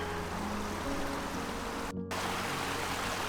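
A brook flows in a steady, dense, hissing rush of water that continues evenly, broken only by a brief dropout midway.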